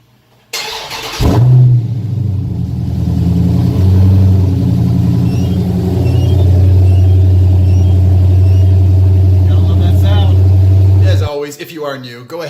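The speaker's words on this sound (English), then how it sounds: "But first, we got to do a cold start" A modded Dodge Challenger or Charger fires up from a cold start with a sharp crank and burst, then settles into a loud, steady, deep rumbling idle that holds for about ten seconds before cutting off.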